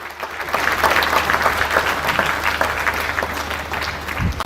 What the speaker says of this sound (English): Clap some more, ladies and gentlemen.